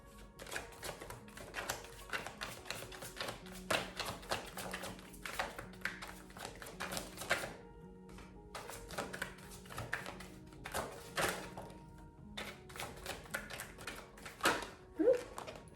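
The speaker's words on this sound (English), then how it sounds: "I'm going to be shuffling some tarot cards as well" Tarot cards being shuffled and handled in repeated riffling bursts with soft taps between them, close by, with no talking.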